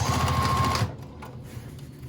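Sewing machine stitching a back stitch to close the opening of a fabric beachcomber pouch: a quick, rapid rattling run of stitches up close that stops abruptly after under a second, leaving quiet shuffling.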